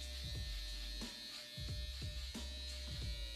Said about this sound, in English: I'm using my style liner to bald the lower portion of the neck because this trimmer is gentle